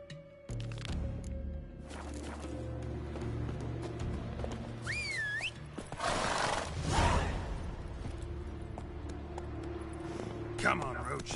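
Roach the horse in The Witcher 3 whinnies with a rising-and-falling call over a steady game soundtrack, with hoof sounds and rustling mixed in and a brief second whinny near the end.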